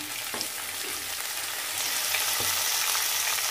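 Onion, capsicum and tomato sautéing in a pan make a continuous close sizzle that grows slightly louder partway through, with faint stirring knocks underneath.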